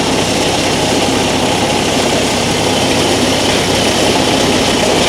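A TYM 574 HST compact tractor idles at 900 RPM with a faulty, sputtering engine, giving a loud, continuous broadband drone with steady low rumble throughout, close and unbroken.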